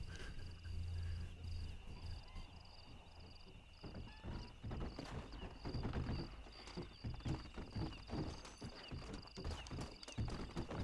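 Horse hooves clip-clop steadily in Red Dead Redemption, a rhythmic trot of hoofbeats over an ambient game soundscape with a faint sustained tone, fairly quiet and without talk.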